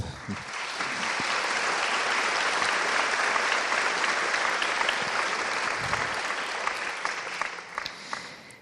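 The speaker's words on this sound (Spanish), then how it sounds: "Bueno, un aplauso." Seminar audience at a biblical customs talk breaking into sustained applause, dense steady clapping that holds loud for several seconds before thinning out toward the end.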